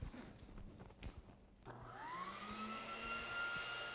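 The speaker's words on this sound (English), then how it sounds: "score the bricks around the base of the cabinets using this die grinder with a cutoff wheel" A die grinder fitted with a cutoff wheel scores bricks at the base of kitchen cabinets while a vacuum hose draws off the dust. The motor whines up to speed and holds a loud, steady high-pitched drone.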